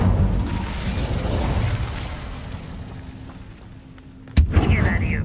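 An Incendio fire spell in Hogwarts Legacy goes off with a sudden sharp burst and roar near the end, after a stretch of low rumbling ambience, followed by a bright crackling flare.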